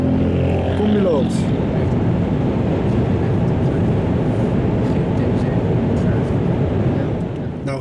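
A motorcycle roars past close by on the road, loud and steady at full throttle, with a rising pitch sweep early and sustained engine and wind noise throughout.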